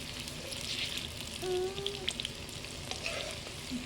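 Country (desi) chicken frying in a pan, a steady close sizzle with brief stirring and scraping as the pieces are flipped, no talking.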